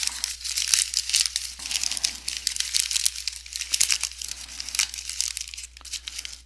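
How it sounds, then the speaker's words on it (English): A sheet of dull-finish paper is crumpled into a ball by hand, giving dense, crisp crinkling and crackling in repeated close bursts with brief pauses, alone and without speech. "Crumple it up."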